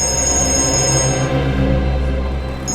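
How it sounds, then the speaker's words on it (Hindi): A continuous electronic ringing tone sounds steadily and fairly loud, with layered tonal buzzing that holds throughout without a break and no speech. "एक मिनट, फोन आ रहा है।"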